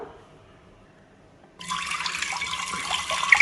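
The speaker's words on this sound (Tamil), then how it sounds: "ஒரு மூணு கப் போல் தண்ணி சேர்த்துக்க போகிறோம்" Water is poured into a cooking pot while making sambar with raw mango and tamarind for a Tamil Pongal vegetarian feast. After a quiet stretch of about a second and a half, a steady, close rushing pour starts and runs to the end.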